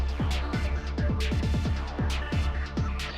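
Electro track built in Ableton: a punchy synth lead over a big low tone and sharp chord stabs, repeating pitch-dropping hits in a tight, driving rhythm, loud and steady with no voices.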